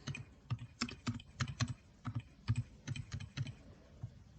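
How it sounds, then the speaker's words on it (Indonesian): Computer keyboard typing in a series of crisp, close key clicks with short pauses between bursts of keystrokes, alone without speech. "Pada kolom label, kita akan ketik tidak berpuasa."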